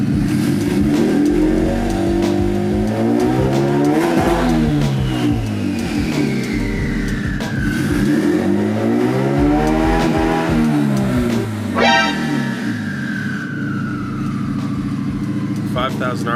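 A turbocharged Honda Civic D16Y8 engine revs repeatedly against a launch control limiter, rising and falling in sweeping pulls with a turbo whistle, loud and close, with someone talking over it.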